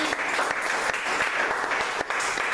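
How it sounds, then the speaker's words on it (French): An audience applauds during a sermon-style talk, a steady close wash of clapping hands with a few sharper claps standing out, lasting about two and a half seconds with no one speaking over it. "On va applaudir pour la main."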